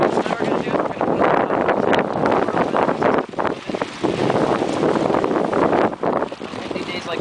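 Strong wind roars and buffets the microphone continuously while a tent is being pitched outdoors on a windy day, loud and gusty throughout.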